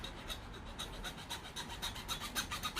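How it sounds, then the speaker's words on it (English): A hacksaw cuts a piece off an Air Jordan UNC low sneaker with steady rasping back-and-forth strokes, close and continuous, no talk. "So I went and I got a hacksaw. Then I cut this piece off like that."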